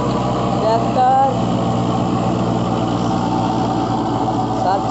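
A Kubota MU4501 tractor runs with a 6 ft Shaktiman rotavator pushing soil in a field. Its engine drones loud and steady for the whole stretch, with a constant low rumble and mechanical churning.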